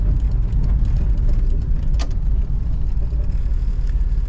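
A Toyota FJ62 Land Cruiser drives along a road, its engine a steady, loud, close rumble with constant road noise throughout and no talking.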